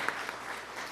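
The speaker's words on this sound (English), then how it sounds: "You guys can clap now" Brief burst of audience applause at a Rotaract club meeting, dense steady clapping from a room of people lasting under a second.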